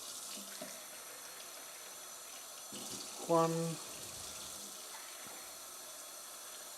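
Tap water running into a pot for cooking rice, a steady close hiss of flowing water with a brief louder splash partway through and a voice speaking over it.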